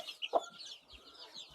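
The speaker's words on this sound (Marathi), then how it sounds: "ही छोटी कोंबड्यांची पण पिल्लं आहेत" Young chicks of farm hens on a goat farm peep and cluck faintly in quick, high, scattered calls, with one slightly louder chirp early on.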